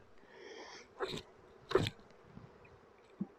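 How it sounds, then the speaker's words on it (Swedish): Bees buzz around a beehive during a hive change, a brief, faint drone early on followed by a few soft knocks and thumps close by, with no talk. "vi har en del små bin kvar här i som gärna vill ha med oss"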